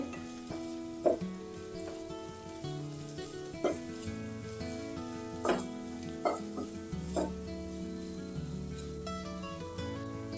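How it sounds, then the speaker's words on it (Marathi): Spiced clams for Karwar-style dry tisrya sukhe with coriander powder and garam masala, stirred in a pan, with steady sizzling broken by a few sharp scraping clinks of the spoon against metal. "आता हे सगळे बरेकन मिक्स करून घेवचे।"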